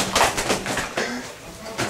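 A bird calls close by with soft cooing notes, repeated a few times over a short stretch, near a great horned owl.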